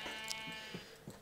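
A Minecraft sheep bleats faintly a few times, short and quiet over a steady background hum.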